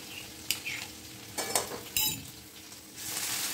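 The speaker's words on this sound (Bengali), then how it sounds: "এবার আমি এর মধ্যে রসুন ফোড়ন দেবো, রসুনটাকে আর কি থেঁতো করে নিয়েছি" Crushed garlic hits hot oil with a few sharp sizzling bursts and clinks of a spoon against the pan, spaced out over a low background hiss, fairly quiet and close, with no talking.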